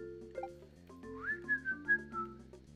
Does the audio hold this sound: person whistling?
yes